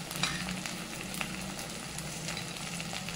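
Spices for a fish curry sautéing in a pan, a steady bright sizzle with occasional stirring scrapes and pops, close and continuous, no talk.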